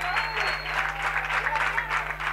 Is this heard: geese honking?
no